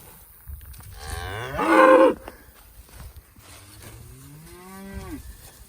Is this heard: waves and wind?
no